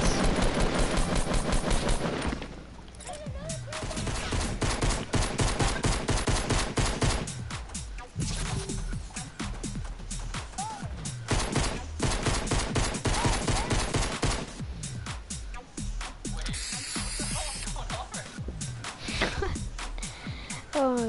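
Rapid bursts of video game gunfire, loud and close, rattling in dense automatic volleys with short gaps, running almost continuously.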